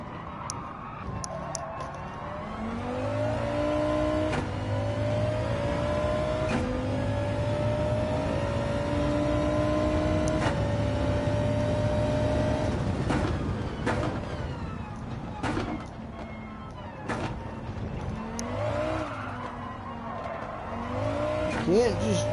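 A race car engine in Gran Turismo 7 revs and drops as the throttle is feathered, with rising and falling engine tones, gear shifts and occasional tire squeal. A voice talks over it throughout.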